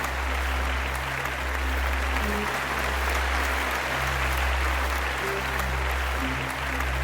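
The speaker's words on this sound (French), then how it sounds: "il faut que je change le son des applaudissements" A canned applause sound effect plays continuously on a French live stream, a dense, steady clapping crowd with no pauses, sitting over a low constant hum.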